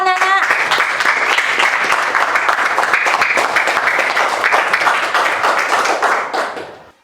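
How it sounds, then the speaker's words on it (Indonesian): A classroom of children claps for the rice field ecosystem group, loud and close, with rapid, crisp hand claps after a brief voice at the start, fading out near the end. "Tepuk tangan untuk kelompok ekosistem sawah, Nana."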